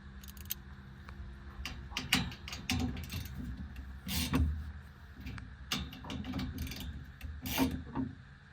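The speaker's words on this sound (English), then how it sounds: "we highly recommend using some kind of a screwdriver and holding the one side while tightening the other" A screwdriver holding one side while rail bolts are tightened on a sliding Molle panel for a 2015-or-later Ford F-150: repeated metallic ratcheting clicks and small clanks of hardware, close up, in uneven bursts.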